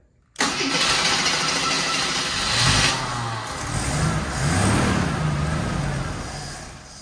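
An old Eagle car engine cranks and catches after a brief silence, then runs steadily with a rough, uneven idle and some revving swells, loud and close, with no talking.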